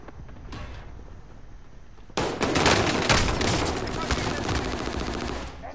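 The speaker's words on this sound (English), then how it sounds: "Receiving hostile fire." Sustained rapid gunfire in a shooter video game bursts in loudly after a quieter first two seconds, continuing as a dense rattling fusillade with steady intensity.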